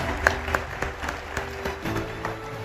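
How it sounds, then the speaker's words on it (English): A crowd applauds steadily at a business awards ceremony in India, a dense patter of clapping with a faint musical tone sustained underneath. "Ladies and gentlemen, a huge round of applause for Mr. Jay Shah."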